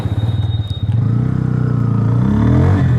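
A Bajaj Pulsar motorcycle engine catches and settles into a throbbing idle, then its pitch climbs as it revs up, loud and close.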